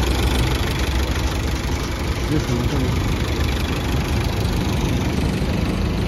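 Car engine idling before shutdown on a road trip to Baguio City, a steady low rumble close by, with people talking over it.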